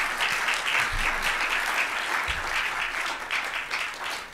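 Audience applause at a book discussion event, a dense steady wash of many hands clapping close and loud throughout, with a couple of low thumps, no voices standing out.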